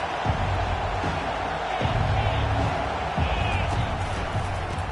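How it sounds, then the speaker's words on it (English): A big stadium crowd at a Michigan versus Oregon football game roars in a dense, constant wash of cheering, with a commentator speaking over it. "They challenge this crowd to bring the energy, and I'd say they're doing that."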